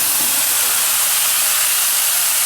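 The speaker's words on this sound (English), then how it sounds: "we'll add the meat back into the pan." Beef hits a hot pan of fried homemade Madras curry paste, setting off a loud, steady, close sizzling hiss that holds unbroken throughout.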